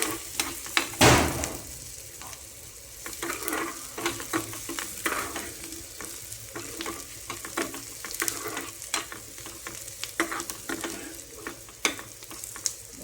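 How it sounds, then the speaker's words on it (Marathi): Onion frying in oil for a chicken 65 curry, a steady close sizzle with frequent stirring scrapes and clinks against the pan throughout. "कांदा तोडून घेऊ तेलामध्ये"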